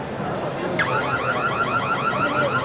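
An IdeeBank smart bicycle taillight sets off its anti-theft alarm: a loud, close run of rapid electronic chirps that rise and fall, repeating steadily.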